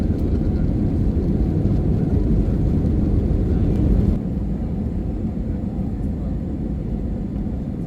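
Steady, loud broadband drone of an airliner cabin in flight, a continuous low rumble that drops slightly in level midway and then holds evenly to the end.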